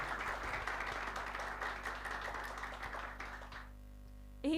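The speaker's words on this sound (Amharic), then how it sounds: "ሞቅ ባለ ጭብጨባ መስግኑልን ለወረቡና ለመዝሙሩ" Audience applause at a Meskel holiday celebration program, sustained clapping from a crowd that tapers off after about three and a half seconds before a brief tonal sound at the end.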